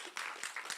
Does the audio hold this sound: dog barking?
no